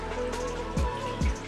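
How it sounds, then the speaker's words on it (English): Light rain sprinkles steadily onto surfaces on a lake during a bass fishing tournament practice day, a soft continuous patter with a couple of heavier dull thumps, and no one speaks. "yes, that's rain, but it's a sprinkle."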